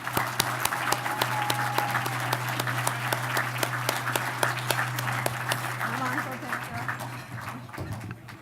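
Applause at a banquet for a development company receiving an award, a dense steady clapping from a large seated crowd that fills the room, with a low sustained hum beneath it, fading slightly near the end.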